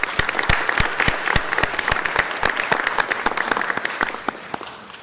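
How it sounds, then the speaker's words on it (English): Applause at an LA City Council presentation honouring community volunteers, a room of hands clapping in brisk overlapping bursts, steady and fairly close before tapering off at the end. "Let's give them a big round of applause for that."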